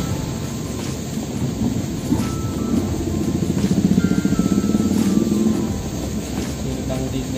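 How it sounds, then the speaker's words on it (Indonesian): Heavy rain pours steadily with rolling thunder during a river flood in Kelua, Tabalong, a dense broadband roar with a low rumble that swells in the middle and then eases. "Hujan."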